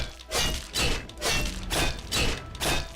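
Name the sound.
blade striking an enemy in the video game Oblivion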